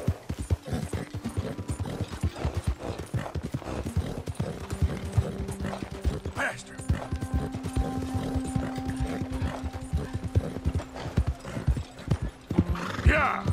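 Galloping horse hooves in the video game Red Dead Redemption 2, a steady fast clip-clop running the whole time with occasional whinnies, under someone talking.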